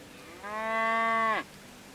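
A single cow in the farming game Medieval Dynasty gives one clear, drawn-out moo about a second long. It ends in a falling pitch over quiet background, with no talk.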